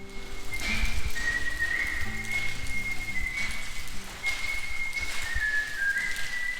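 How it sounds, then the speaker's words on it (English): A man whistles a wavering, sustained tune while driving through a tunnel, the whistle loud and close over a rumbling road and engine roar. "Any tunnel we go through, he has to whistle."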